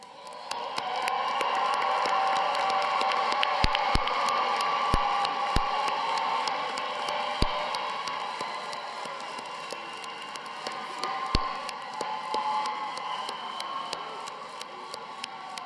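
A large crowd at a College of Education graduation celebration applauding and cheering: a dense, sustained wash of clapping and shouts that holds steady throughout, with a few sharper claps standing out.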